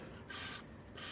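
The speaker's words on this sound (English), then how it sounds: "I'm gonna spray on the inside so the penetrating fluid get on the other side of the 2 screw" Penetrating fluid sprayed through a thin straw into the inside of a 2004 Honda Odyssey EX front door, two short hissing bursts close by with a pause between, no talk.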